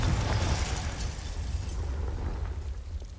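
Confringo fire spell blasting in Hogwarts Legacy, a loud sustained rumbling explosion with heavy low boom and crackling debris fading slowly over a few seconds.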